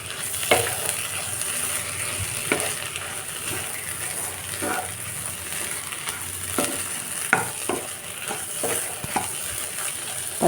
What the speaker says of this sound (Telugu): ఇదంతా బాగా మిక్స్ అయ్యేలా కలుపుకున్నాం.